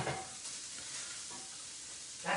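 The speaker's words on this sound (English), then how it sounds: "Okay, the pancetta is rendering." Pancetta renders in a pan with a steady hiss of fat sizzling, fairly faint and close, with soft stirring bursts at the start and end.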